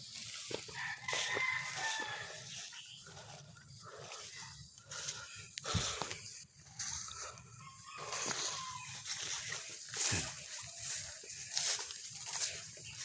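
Chickens cluck steadily in a barnyard while a rooster crows, with scattered rustling and occasional sharp clicks as their dinner is prepared.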